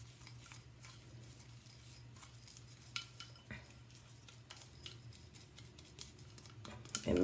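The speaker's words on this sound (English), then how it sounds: "I'm going to stir that up." Spoon stirring a grainy lip scrub of brown sugar, baking soda and oil in a small container, with quiet repeated scraping and clicking strokes close by and a faint hum underneath.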